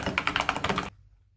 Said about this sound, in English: The Techwear Phantom Plus Elite 87 key keyboard